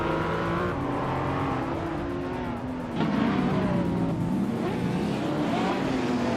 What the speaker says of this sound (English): 2017 Porsche 911 999 GT2 RS, known for its sharp handling and turbocharged power